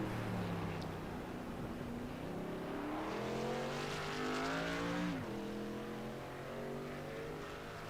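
A race truck in a racing video game at Circuit of the Americas roars with a loud, steady engine whose pitch climbs through gears, then drops in hard downshifts near the middle before revving again, with no voices.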